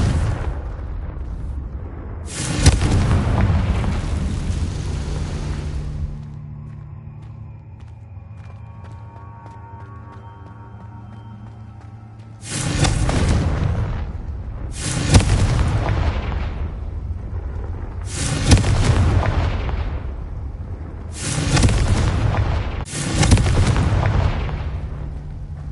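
Confringo blasting spells explode repeatedly in the video game Hogwarts Legacy, with loud booming blasts arriving in a series of separate bursts, one followed by a quieter stretch of ringing game effects before several more rapid explosions.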